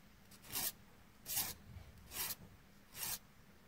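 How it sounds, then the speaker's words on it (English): A hand file worked over a steel tube for a fly-tying bobbin holder makes four evenly spaced rasping strokes, each a short bright scrape, close and fairly quiet with faint background between. "Now we just have to file this one down."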